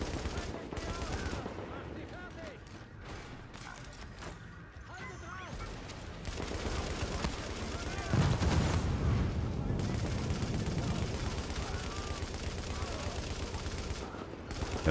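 An M60 machine gun fitted with a sniper scope fires in The Division in long, rapid bursts, loud and sustained, while a voice talks over the shooting.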